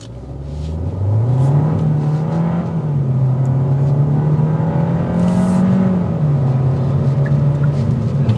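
A 2024 Kia K5 GT Line sedan with a turbocharged front-wheel-drive engine accelerates hard from a red light in sport mode, its loud, steady engine drone rising and holding close for several seconds with no talking.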